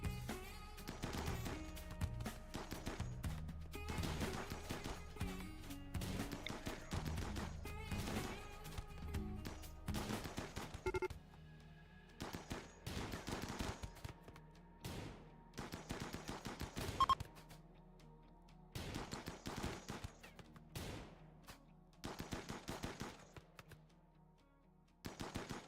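Colonists' guns firing in a RimWorld battle, with rapid bursts of automatic gunfire and scattered single shots continuing throughout, dense at first and then breaking into separate volleys.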